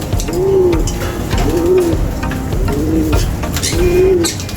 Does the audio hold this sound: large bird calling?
yes